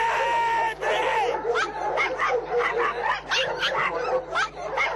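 Police-trained Yorkshire terriers barking and whimpering in rapid, yappy bursts, fairly close, over a steady low hum with some background noise.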